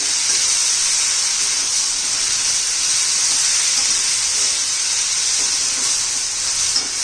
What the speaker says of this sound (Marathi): आता आपण चिरलेला बटाटा आणि शिमला मिरची घ्यायची तेलामध्ये आपण परतून घेऊया